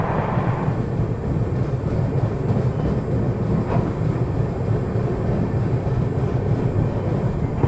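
A passenger train on the Howrah to Prayagraj route rumbles along in a steady, loud roar of wheels and carriages, heard close from on board with no talking.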